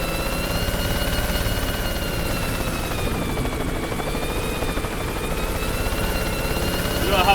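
A helicopter flying in a video game, its rotor giving a steady buzzing drone with a faint whine above it, close and loud throughout, with a brief burst of something sharper at the very end.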